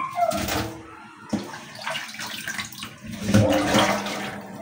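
Water runs and splashes unevenly, with bursts of rinsing and sloshing close by in a kitchen, no talking.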